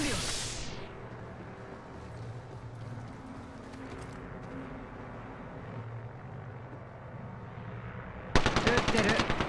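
Automatic gunfire bursts in Apex Legends during a final-ring fight, starting as a loud rapid volley near the end after a stretch of low game ambience and background sound.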